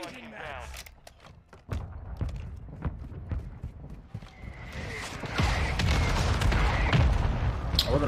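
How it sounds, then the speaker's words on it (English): Explosions from a friendly mortar strike in the video game Modern Warfare II: a string of sharp booming impacts, then a dense, loud, sustained barrage of blasts and rumble, with a player voice speaking over it. "Friendly mortar strike"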